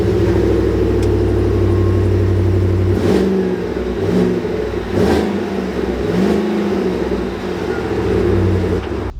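A 2025 Suburban High Country's 6.2-liter V8 revs hard under acceleration, a loud, steady low engine roar that holds throughout with a slight surge partway through.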